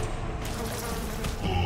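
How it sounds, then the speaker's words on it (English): Dense swarm of bees droning steadily in BioShock, a continuous close insect buzz filling the whole short stretch without pause. "Unleash the bees!"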